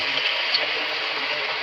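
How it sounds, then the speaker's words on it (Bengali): Brinjal fritters coated in gram-flour batter frying in hot oil, giving a steady, dense sizzling hiss that stays fairly loud and even with no pauses and no talking. "একে একে সব বেগুনগুলো ভেজে নেব।"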